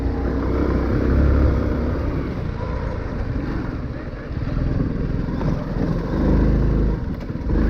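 Honda Cross Cub 110 small motorcycle riding in second gear, a steady loud engine drone with wind rush that rises and eases slightly as the bike moves along.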